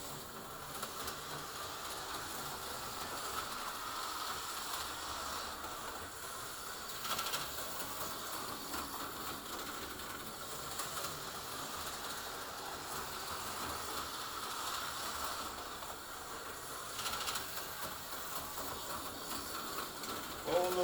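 An AFX Tyco toy train runs steadily around a hybrid model layout, making a continuous light ratcheting, clicking rattle at close range with no talk.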